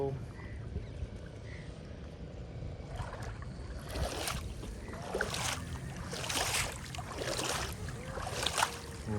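A kayak on a river sounds as paddle strokes splash and slosh in repeated bursts over steady flowing water and wind, with faint voices in the background.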